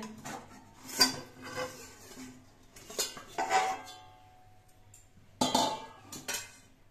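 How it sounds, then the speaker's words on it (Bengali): A metal lid is lifted off a pot used for baking a cake, giving a few separate clanks and scrapes of metal on metal, close and fairly quiet, with short pauses between them and no talking. "25 মিনিট পর আমি ঢাকনাটা খুলে নিচ্ছি।"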